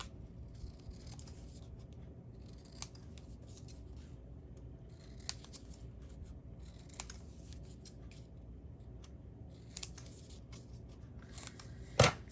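Scissors trim craft material for a handmade Ferris wheel in a quiet room, with a steady close snipping texture and a few sharper cuts, ending in a louder snip.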